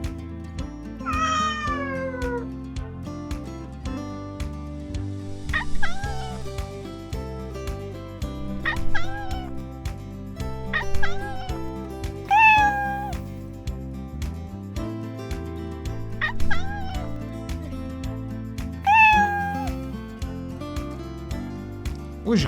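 Several cats meow one after another in clear, close, drawn-out calls over a steady music bed, roughly every few seconds.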